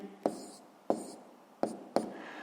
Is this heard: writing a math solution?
yes